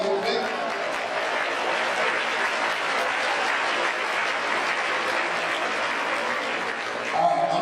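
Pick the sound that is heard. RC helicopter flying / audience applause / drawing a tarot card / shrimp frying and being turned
audience applause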